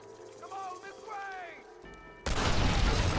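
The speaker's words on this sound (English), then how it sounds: "Just a lot of TNT explosions." A TNT explosion in the video game Red Dead Redemption erupts abruptly after a stretch of quieter game sound and a voice, a sudden loud broadband blast that roars on through the end.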